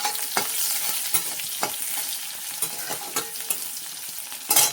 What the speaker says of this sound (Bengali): এবার আমি তেলটা গরম হয়ে গেছে, এবার দেবো আমি পেঁয়াজ ফোড়ন